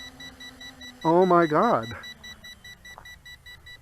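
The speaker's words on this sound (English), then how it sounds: "And the beeping has stopped too." A Snaptain SP7100 GPS drone sounds a steady, repeated electronic beep after landing, faint and rhythmic throughout, while a woman exclaims loudly over it midway.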